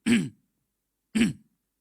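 Two short, gruff throat-clearing coughs, about a second apart, close and isolated with silence between them.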